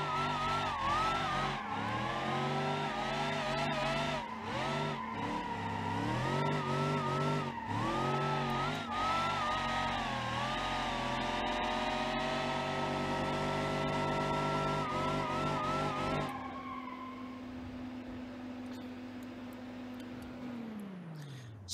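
A powerful car in BeamNG.drive revs hard with harmonic engine tones rising and falling, tires squealing through corners, then the engine winds down near the end; no talking.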